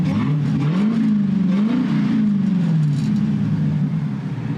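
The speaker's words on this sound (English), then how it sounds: "Give it a little rev now that it's warmed up" An 800-horsepower Hellcat Cuda engine, warmed up, revs steadily on its first drive, a loud continuous rumble rising and falling in pitch through several gentle swells of throttle with no voices over it.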